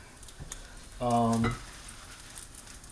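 Ground beef frying in a pan, a short loud sizzling burst lasting about half a second amid a quiet kitchen background.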